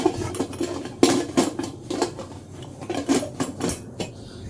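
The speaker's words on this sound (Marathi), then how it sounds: "कुकरचं झाकण लावूया" A metal pressure cooker lid is fitted onto the cooker, producing a series of sharp metallic clanks and scrapes, some close and loud, spaced irregularly with quieter rattles between them.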